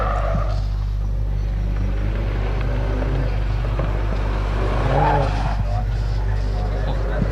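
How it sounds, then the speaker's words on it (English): Chris's Mini Cooper, car number 4, on a Legend of the Lakes hillclimb course, a steady engine drone with a brief tyre squeal as it takes the run, mostly under commentators talking throughout. "Car number 4 now, driven by Chris, his Mini Cooper."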